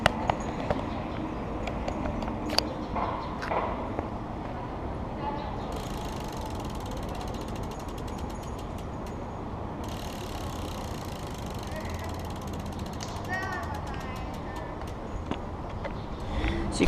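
FlyKly Smart Wheel rear hub motor on a bike spinning freely, a steady fast ratcheting clicking with faint mechanical hum, close and moderately loud.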